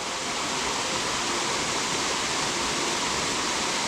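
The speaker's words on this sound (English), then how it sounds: "we're walking down to the waterfall now" A waterfall in Koh Samui, Thailand, gives a loud, steady, broadband roar of rushing water that stays constant without a break and carries no speech.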